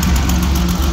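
A 1954 GAZ M-20 Pobeda with a 2.9-litre engine idles close by, giving a steady, loud low rumble with an even pulsing beat.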